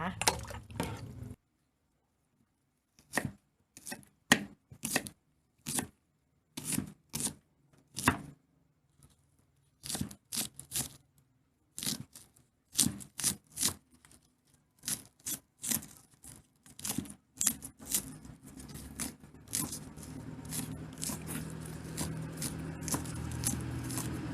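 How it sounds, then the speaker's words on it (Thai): Sharp, rapid knife chops through coriander on a cutting board, coming in quick bursts with short pauses, close up, joined near the end by a steady background hiss. "หั่นผักชีนะคะ"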